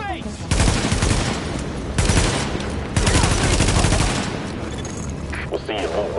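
Gunfire in the video game The Division: sustained loud bursts of automatic fire and rapid shots in dense volleys, with voices talking over the shooting.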